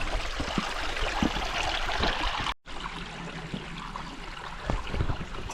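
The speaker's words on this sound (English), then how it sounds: "We have made it to the stream coming off the mountain." A mountain stream near Schrecksee flowing nearby, a steady broadband rush of water with small splashes, briefly cut off once before resuming.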